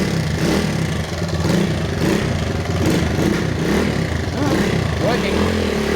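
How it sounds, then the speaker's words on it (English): Small-displacement vintage dirt bike two-stroke engine, such as a Honda XR75 or Yamaha YZ80, revving steadily near its top end, close and loud throughout with a slightly rough, noisy mechanical edge. "You can hear that motor's a little bit noisier at the top end."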